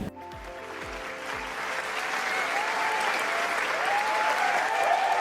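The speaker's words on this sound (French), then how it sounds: "Applaudissez, applaudissez, applaudissez, applaudissez, applaudissez." Steady applause from an audience at the close of a crypto investment training session, building from scattered claps into a dense, sustained round with no one speaking over it.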